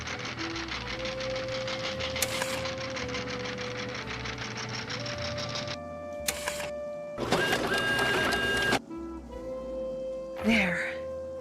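A printer in the Nancy Drew game Danger by Design runs loudly and mechanically with a steady hum, rhythmic feeding and several shifts in pitch, broken by short louder bursts of whirring.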